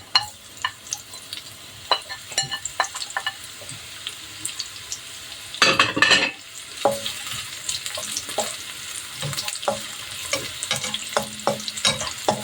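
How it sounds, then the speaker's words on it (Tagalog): Red onions sizzling in a frying pan while being stirred, with a steady hot frying hiss, repeated scrapes and taps of a utensil, and one louder burst of sizzle partway through. "Lagay na natin yung red onions."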